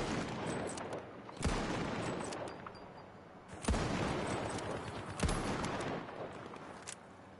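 Turret gunfire in a shooter video game, a room packed with turrets: bursts of gunfire crackle throughout, with three louder sharp blasts standing out against a dense, noisy battle background.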